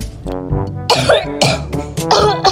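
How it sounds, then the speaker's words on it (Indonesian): A person with a fever coughs repeatedly and harshly, loud and close, in a rapid burst of rough, chesty hacks with throat clearing. "Dari kemarin aku demam dan batuk-batuk."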